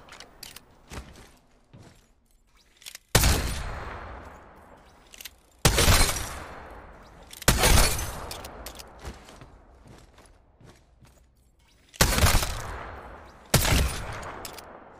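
Gunfire in a first-person video game: several loud, sharp shots spaced irregularly, each with a ringing decaying tail, interspersed with quieter clicks and mechanical handling sounds between them.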